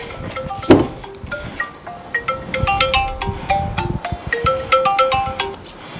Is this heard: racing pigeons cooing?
no